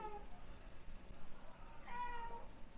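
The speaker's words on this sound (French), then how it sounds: "Excusez-moi, c'est mon chat qui est rentré." A domestic cat that has just come into the room meows twice, a short faint call at the start and a longer one near the end, over quiet room noise with no talk.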